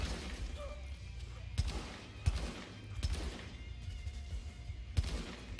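Sniper rifle gunfire in The Division, a handful of sharp, loud shots spaced irregularly over steady game background noise, with a voice talking quietly between them.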